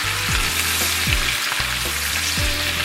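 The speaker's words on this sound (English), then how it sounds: "We're going to let those get good to saute and soften up." Onions, green peppers and celery sauté in olive oil, giving a steady, close sizzle and crackle throughout, with a few soft scraping stirs.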